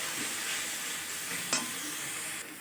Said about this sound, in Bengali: লঙ্কার গুঁড়ো এক চামচ হলুদ গুঁড়ো দিয়ে ভালো করে কষাতে হবে